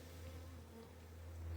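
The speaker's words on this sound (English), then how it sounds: "Bees that are being busy." Honey bees buzzing around their hives, a steady low drone of many insects humming continuously at moderate distance with no talk.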